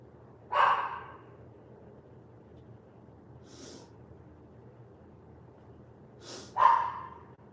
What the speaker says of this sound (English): I don't know what the hell's wrong with that dog